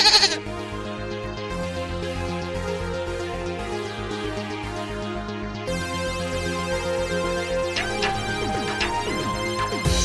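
A goat bleats over a dense, continuous bed of layered tonal sound that runs for about ten seconds, staying loud throughout.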